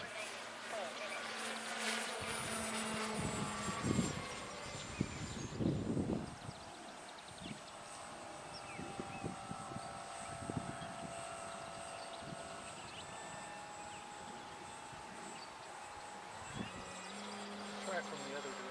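RC airplane flying over the Columbus Aeros Field, its engine drone rising and falling as it passes at a distance, steady and moderately faint, with outdoor wind and occasional handling noises.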